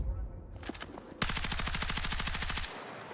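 Rapid automatic rifle fire from a suppressed, long-barreled weapon in Battlefield 6, a steady burst of evenly spaced shots lasting over a second, loud and close, after quieter handling clicks and background game sounds.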